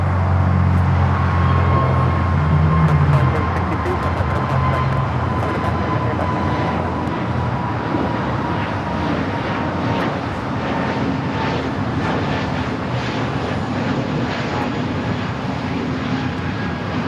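Jet engine noise from a Qatar Emiri Boeing 747 at Los Angeles International Airport, a broad steady roar with a whining tone that gradually fades in intensity, heard from some distance without talking.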